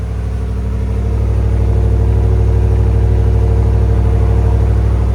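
A steady, deep V8 idle from a 2026 Chevy Silverado Trail Boss 5.3L with a Borla Touring cat-back exhaust rumbles close by with a low, even burble and no changes in pitch, loud and constant throughout.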